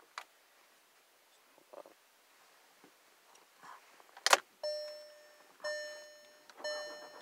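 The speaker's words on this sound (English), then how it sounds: "You have to insert the key, turn it." Ignition of a 2019 VW Jetta: faint clicks as a key goes in, a sharp rattle as it turns, then three rising electronic chimes.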